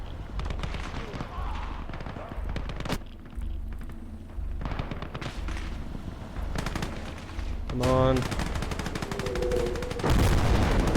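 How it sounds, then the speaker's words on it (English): Gunfire from a Call to Arms: Gates of Hell Ostfront battle between USSR and German forces: sustained rattling machine-gun bursts and scattered shots, with heavy booms that could be artillery, loud and continuous for the whole stretch. "Are they bringing in artillery now?"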